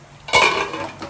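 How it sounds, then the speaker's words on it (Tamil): A metal pot of kalan kuzhambu gravy gets a stir and its lid is set on, giving one short, close metallic clank and a brief ring-off. "நம்ம நல்லா கிளறி விட்டுட்டு மூடி போட்டு மூடிடலாம்"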